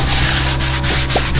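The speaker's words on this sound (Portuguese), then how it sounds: "Lixando como ninguém" Steady, continuous abrasive rasping of sanding a metal frame, loud and close, with no pauses and no voices.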